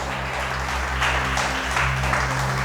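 Congregation applause at a church service, a steady wash of clapping from a crowd over a low sustained musical drone, fairly loud and continuous for a few seconds.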